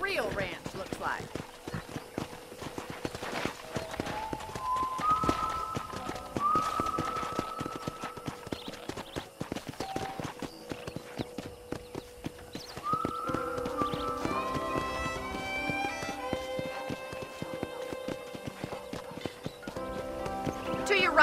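Hoofbeats and horse whinnies from the Western ranch setting of the video game Red Dead Redemption, clopping steadily under background music, with a voice calling out between them.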